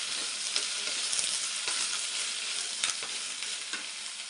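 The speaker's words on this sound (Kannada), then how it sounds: "ಇವಾಗ ನಾನು ಎಣ್ಣೆ ಹಾಕ್ಕೊಂಡಿದ್ದೀನಿ, ಕಾದಿದೆ ಇವಾಗ ಬಾಣಲಿ. ನಾನು ಬೆಂಡೆಕಾಯಿನ ತೊಳೆದು ಹಚ್ಚಿರೋವಂಥದ್ದು. ಇದೊಂದು ಸ್ವಲ್ಪ ಫ್ರೈ ಮಾಡ್ಕೊಳ್ಳೋಣ." Washed okra fries in hot oil in a heated pan, giving a steady, close sizzle with a few sharper crackles and light stirring clicks, with no voices.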